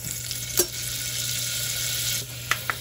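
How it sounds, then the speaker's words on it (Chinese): Garlic fries in a wok with a dense, steady sizzle and hiss that continues throughout, broken by a few sharp utensil taps near the start and end, close by and with no talking. "咁咧落咗啲蒜頭，爆香啲蒜頭"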